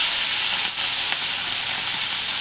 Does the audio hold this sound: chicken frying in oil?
yes